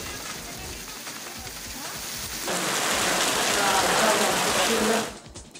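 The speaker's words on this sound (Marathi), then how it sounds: "दुपारी जोरदार पाऊस झाला" Heavy unseasonal afternoon rain pours down steadily, a dense close hiss that grows louder and fuller partway through before cutting off abruptly.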